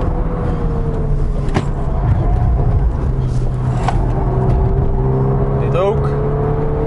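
A 2021 Volkswagen Golf R lapping the Nürburgring gives a steady in-cabin engine drone with shifting revs and faint tyre noise, while someone talks over it.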